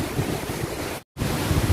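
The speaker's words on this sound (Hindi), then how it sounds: "फाइनली पहुँच गए वाटरफॉल पे।" A waterfall in Manali rushes with a loud, dense, continuous wash of noise. A brief silent dropout interrupts it in the middle.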